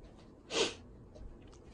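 A single short, sharp sniffle through the nose from someone with a cold, close and quick, followed by faint softer breathing in a quiet room.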